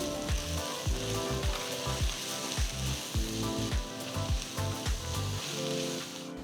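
Spice powders, including turmeric, red chili and coriander, sizzle loudly in hot oil while being stirred, with a continuous close frying hiss and rhythmic low scraping strokes repeating about twice a second.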